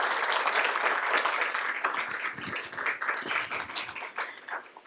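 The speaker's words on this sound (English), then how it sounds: "Please give them a round of applause." Applause at a school board of education meeting: a room full of people claps steadily for about five seconds, the sound moderately distant and thinning out toward the end.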